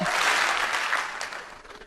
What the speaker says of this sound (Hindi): जब भी मैं हेलो बोलूंगा एक बार ताली बजाएंगे।